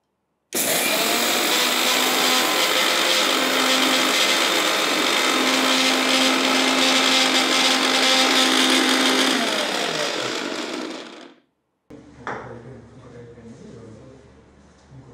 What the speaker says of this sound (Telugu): దీనికి కావాల్సింది మనకు ఒక చిన్న మిక్సీలో వేసి మనం దీన్ని పౌడర్ చేసుకుందాం.